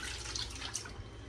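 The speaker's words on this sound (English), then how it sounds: "So I'm gonna pour the grease in." Chicken grease poured from a container into a pan in a home kitchen, a close, continuous liquid trickle and splash with faint dripping, lasting just over a second without talk.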